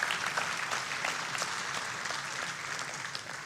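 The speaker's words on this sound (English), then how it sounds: "We can applaud that." A church congregation applauds steadily for several seconds, a dense wash of clapping that slowly fades a little toward the end.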